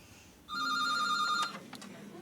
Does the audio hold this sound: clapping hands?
no